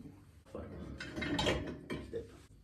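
A clay Römertopf cooking pot is loaded into a home dishwasher: a few clattering knocks and scrapes of the pot against the racks, close up, with brief pauses between handling sounds.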